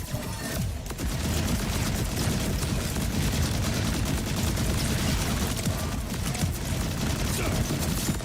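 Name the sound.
rapid gunfire from a video game, Borderlands 4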